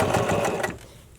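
A sewing machine runs in a steady, rapid whir while stitching elastic around a bra cup, loud and close for under a second before stopping abruptly and leaving near silence.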